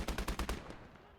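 MG42 machine guns firing in the World War II strategy game Gates of Hell, a short rapid burst of about six close, loud shots that cuts off and trails into faint ambience.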